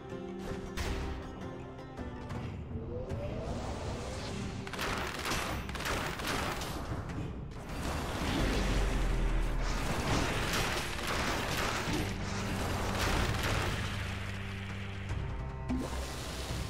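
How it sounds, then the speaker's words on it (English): Dense crackling barrage of blasts and rattling impacts from a cluster grenade in the game FTL: Faster Than Light, swelling louder midway and continuing as a busy, overlapping clatter over mechanical hums, without speech. "I'm gonna throw the cluster grenade right in his face"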